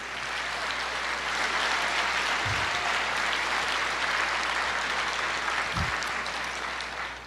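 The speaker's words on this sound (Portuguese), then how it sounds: "Você pode aplaudir o Senhor e dizer:" A church congregation applauds during a sermon, with a broad, even wash of many hands clapping that swells and holds steadily, heard from within the room.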